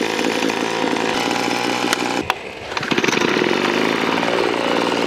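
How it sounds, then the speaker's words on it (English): A loud small leaf blower engine roars steadily with a harsh buzzing whine, briefly dipping before revving back up and running on continuously. "Leaf blower battle, let the games begin."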